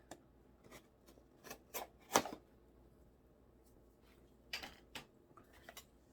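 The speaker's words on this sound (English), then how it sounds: "So I got my scissors and I am going to slice this right here." Several short, crisp snips and scrapes of scissors cutting open an eyelash subscription box package, quiet and close, with pauses between cuts.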